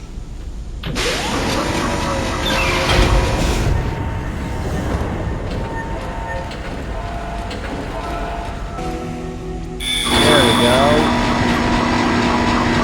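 A tram in the Dead Space video game rumbling and clattering along its track, a loud mechanical roar with a sharp, brighter surge near the end, while someone speaks briefly over it.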